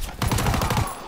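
Rapid automatic gunfire from a weapon in Call of Duty WW2, a tight burst of about eight evenly spaced shots fired close and loud with no talk over it.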